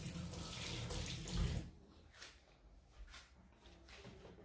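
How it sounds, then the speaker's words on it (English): Tap water running while hands are washed at a sink, a loud splashing gush for about a second and a half, then softer intermittent trickles and splashes. "let me wash my hand"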